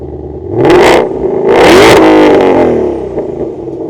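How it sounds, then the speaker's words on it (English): Ford Shelby GT500 V8 firing up close by, then two sharp revs that climb and fall before settling into a rough, loud idle. "let's go ahead and fire up the GT500"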